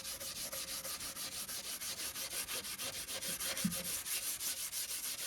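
A hand pad is rubbed back and forth over a wooden furniture piece while old finish is stripped off, a steady, rhythmic run of quick scrubbing strokes, close and even, with no talking.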